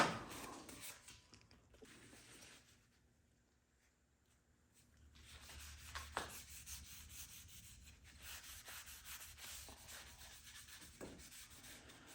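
Cloth rubbing excess stain off the side of a wooden nursery-sign frame, a soft, close scrubbing that fades into a quiet pause and then resumes in steady strokes with a few sharper scrapes.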